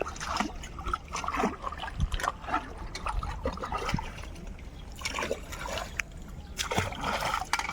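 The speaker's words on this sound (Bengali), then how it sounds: "ঝোরার মুখে জল উঠে যাচ্ছে হু করে জল উঠছে জোয়ারের জল" Tidal water rushes into the mouth of a creek in the Sundarbans, a close, busy gurgling and splashing flow with irregular bursts, continuous throughout.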